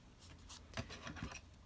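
Scissors snip through paper during a vintage-ephemera craft session, with a few crisp cuts close by and light rustling between them, no talking.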